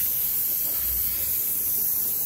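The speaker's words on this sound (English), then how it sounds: "but the brake cleaner works pretty good. Wash all this stuff off." Aerosol brake cleaner sprays steadily onto a greasy crossmember of a 1938 Ford truck chassis, giving a close, continuous hiss that holds at an even level throughout with no pauses.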